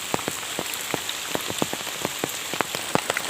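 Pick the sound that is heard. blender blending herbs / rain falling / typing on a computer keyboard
rain falling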